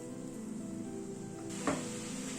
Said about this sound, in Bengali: ঝোলটা একটু ফুটে উঠুক